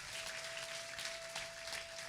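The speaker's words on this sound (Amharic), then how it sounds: "አጨብጭቡ ለጌታ" Congregation at a gospel church service applauding, a steady wash of clapping from many hands, fairly distant and even throughout with a faint sustained tone beneath.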